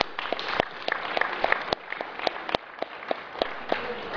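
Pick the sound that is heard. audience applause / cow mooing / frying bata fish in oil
audience applause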